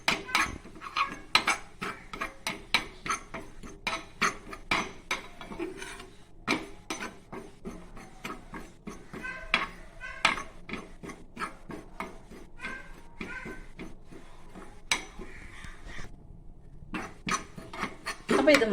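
Ginger dry-roasts in a hot pan while a utensil stirs and scrapes it, giving irregular dry rasping strokes with light metallic clinks that continue steadily and fairly quietly.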